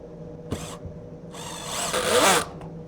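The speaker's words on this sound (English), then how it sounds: "Just apply the glue to your joint and drive the self-tapping screw." A power drill drives a self-tapping screw into a glued Kreg pocket-hole joint in wood, with a short burst of whirring followed by a longer, rising whine as the screw seats, heard up close.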